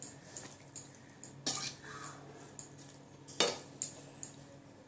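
Mango pickle being mixed with oil by hand in a bowl, giving soft close scraping and stirring with scattered light clinks of a utensil against the container, fairly quiet and without talk.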